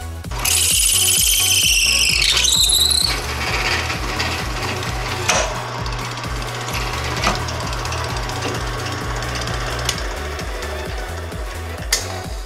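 A drill press bit bores through hard material with a loud, shrill screech for the first three seconds, then settles into a steady low motor hum broken by a few sharp clicks.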